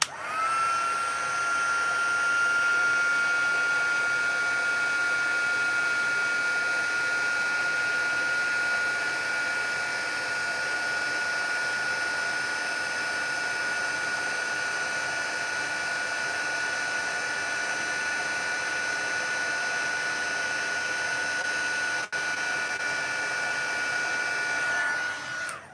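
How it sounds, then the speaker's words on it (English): A heat-embossing tool blows a steady, close airy roar with a thin constant whine while melting embossing powder on a handmade card, running unbroken and alone for the whole stretch. "grab the heat tool and get this"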